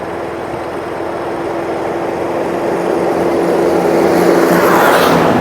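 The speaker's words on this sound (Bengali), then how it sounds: "এই আমরা বাইক নিয়ে বের হয়ে পড়ছি" Motorbike engine droning steadily as riders set off for Balashi Ghat in Gaibandha, a continuous close hum that grows slightly louder toward the end, with no talk.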